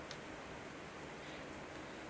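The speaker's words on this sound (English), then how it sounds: "The slow sounds of his gait has a nice contrast to the rain dashing against the windows." Steady rain beats against windows in a steady, dense wash of patter, fairly faint and unbroken, with no voices over it.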